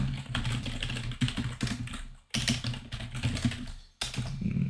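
Close, steady typing on a computer keyboard while writing code, a dense run of quick key clicks broken by two short pauses, with no talking.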